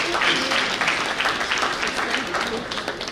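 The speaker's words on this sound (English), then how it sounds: "Round of applause for" An audience at an NHS joint annual review gathering breaks into steady applause that fills the room, with voices mixed in.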